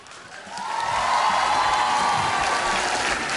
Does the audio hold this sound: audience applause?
yes